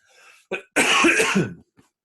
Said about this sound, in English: I'm going to cough now because I'm still a bit ill, sorry.